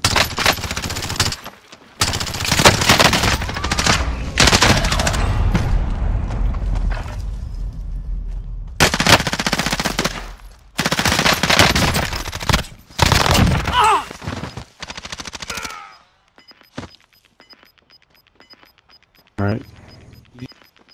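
Bursts of automatic gunfire in Call of Duty Warzone, loud and close, come in repeated volleys with short gaps, then give way to quieter scattered distant shots near the end.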